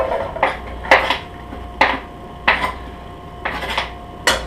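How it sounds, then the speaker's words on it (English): Chopped onions are tossed into a pot with olive oil, heard as a series of sharp metallic clanks and scrapes from a utensil against the pot, spaced irregularly, with no sizzle evident. "Start by heating it up, putting a little olive oil in there, and tossing in my onions."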